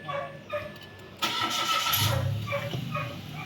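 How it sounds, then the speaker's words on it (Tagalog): A Mitsubishi Mirage engine cranks and catches with a sudden burst, then settles into a rough, steady run, fairly close. "Ayan mga boss, napa-start ko na itong makina."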